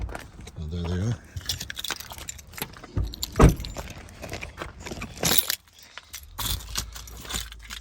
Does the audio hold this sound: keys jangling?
yes